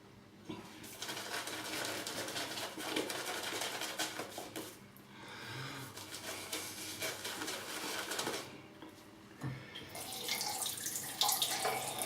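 Tap water pours into a small hole in a soap cone, a continuous splashing trickle that breaks off briefly twice before resuming, with faint clinks near the end.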